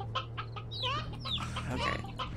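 Chickens cluck in the Slime Rancher video game, a busy overlapping cluster of squawks and chatter that stays close and fairly loud throughout, with no talking.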